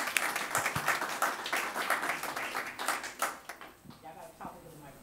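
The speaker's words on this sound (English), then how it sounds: "Please applaud." An audience at a Stop Six neighborhood community meeting claps in a dense, steady round of applause that thins out and fades near the end, with voices talking over it.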